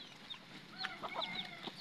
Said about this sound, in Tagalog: mga manok ko, andito pa.